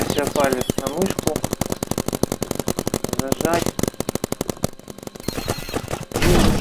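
Rapid, continuous bursts of paintball gun fire in the video game Big Paintball, rattling steadily for several seconds with a voice talking over parts of it.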